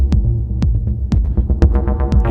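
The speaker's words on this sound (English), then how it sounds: "We were basically talking about the TT-303, and let me just bring that in." A TT-303 bass synthesizer plays an acid house line with a throbbing low bass and sharp, regularly spaced plucked notes. The pattern is loud, close and repetitive, and no voice is heard over it.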